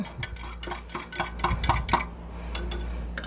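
A utensil stirs a liquid mixture in a quart container while preserving eggs, giving quick clinking taps against the side in an uneven rhythm, close and fairly faint.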